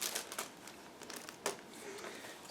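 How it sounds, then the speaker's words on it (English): Plastic bag holding parts of a Takom 1/35 AMX-13 model kit is opened and handled, faint close crinkling with a few sharper rustles, no voices. "Just give me a second to open it, because it's packed into the plastic bag"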